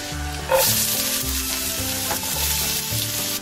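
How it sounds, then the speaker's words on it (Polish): Onion frying in hot oil for a village-style pizza topping gives a steady, close sizzle with stirring throughout, without pause. "Cebulę wrzucę na rozgrzany olej i troszeczkę podsmażę."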